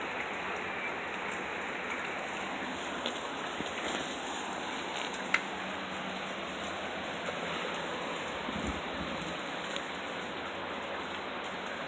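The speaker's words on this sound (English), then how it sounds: "It's raining." Rain falling steadily during a tornado storm in Stuart, Iowa, a continuous soft hiss of drops on surfaces with occasional louder spatters, fairly faint and without voices.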